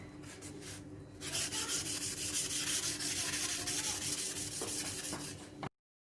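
A badly rusted machete blade rubbed back and forth across a fine sharpening stone gives a steady, close, gritty scraping that runs continuously for several seconds before stopping abruptly.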